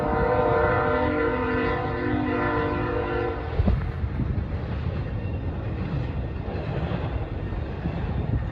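A high-priority IO-10 freight train loaded with UPS container traffic rumbles past at Fostoria's Iron Triangle, its horn sounding loudly for about three and a half seconds before the steady roar of passing cars and wheels continues alone.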